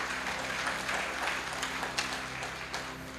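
A church congregation applauds during a sermon, a moderate wash of clapping over a low steady hum, somewhat distant and even, with a few sharper claps standing out.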